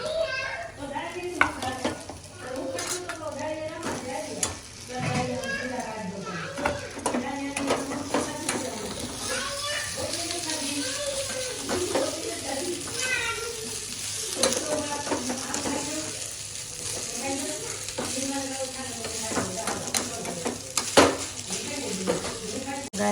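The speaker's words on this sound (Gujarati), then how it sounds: "હવે રાઈસ એડ કરું છું." Cooked rice is added to a frying pan and stirred, with a soft sizzle under repeated scraping and clinking of a spoon against the pan while a voice talks nearby.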